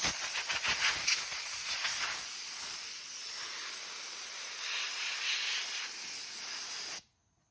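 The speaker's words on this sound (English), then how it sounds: "Got a little compressed air," Compressed air blasts crumbs off a crusty dining room window in a steady, loud, close hiss that runs about seven seconds, then cuts off abruptly into silence.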